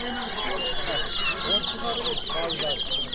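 A dense chorus of high, shrill peeping from many month-old turkey chicks at a bird market, continuous and close, with faint voices mixed underneath.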